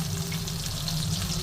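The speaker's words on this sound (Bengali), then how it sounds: "এবার আমি বেগুনগুলো সব ভেজে নেব" Eggplant pieces fry in hot oil in a wok over high flame, a steady close sizzle and crackle with no voices.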